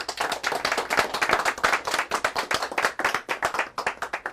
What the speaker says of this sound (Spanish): les voy a pedir que recibamos con un fuerte aplauso